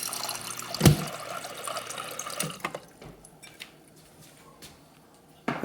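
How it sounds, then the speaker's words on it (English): Water pouring from the dispenser of an LG French door refrigerator, a strong rushing flow at first that stops after about two and a half seconds, then faint drips and light clicks in near silence. "Has ice and water dispenser"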